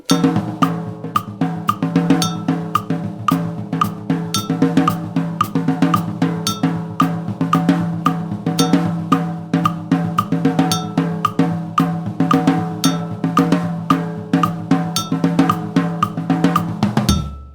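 Steady, sharp metronome clicks tick at an even tempo of 113 throughout, layered over a repeating musical pattern, ending abruptly.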